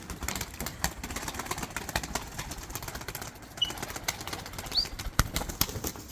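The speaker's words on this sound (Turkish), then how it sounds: "Kanat sesi." Tumbler pigeons at a coop flapping their wings, a series of close, rapid fluttering bursts with sharp clattering beats, interrupted by a few brief high chirps.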